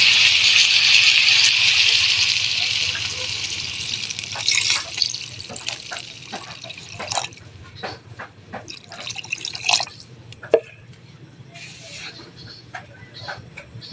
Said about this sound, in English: And now I put water.